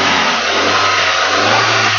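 A used car's engine revs hard in a short, loud burst, a strained mid-pitched roar that holds steady with no voices over it.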